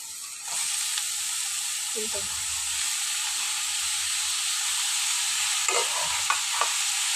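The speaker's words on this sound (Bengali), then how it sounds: "মাশরুম গুলা দিয়ে দিচ্ছি" Mushrooms with chilli powder, coriander powder and salt sizzle loudly in a hot pan, a steady close frying hiss with a few scraping stirs near the end.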